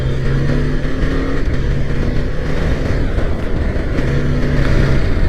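A motorcycle rides in fifth gear at about 52 km/h, its engine droning loud and steady with wind rush, close to the rider and without talk.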